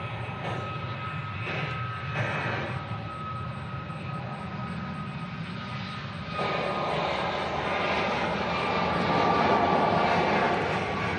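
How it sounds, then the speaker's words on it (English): A Southwest Boeing 737 at Nashville International Airport spools up for takeoff: a steady, loud jet roar swells noticeably after a few seconds and keeps building, with no voices over it. "As you hear the 737 rev up and head our direction."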